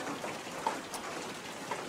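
Soft, steady patter of rain falling outside, faint and even with a few scattered drop ticks.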